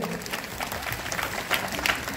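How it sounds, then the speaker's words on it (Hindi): A parish youth gathering in Hamirpur bursts into a short round of audience applause, a dense patter of clapping hands that stays fairly even, with a few sharper claps near the end. "सबको एक बार जोरदार ताली बजा देंगे"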